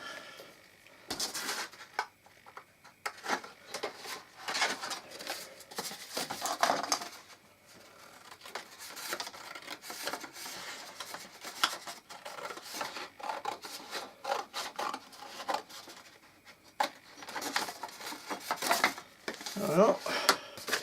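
Scissors snip through thin material while model forest scenery is cut out for a slope, giving a run of short rustling cuts and rubs, close and fairly quiet, with a voice speaking briefly.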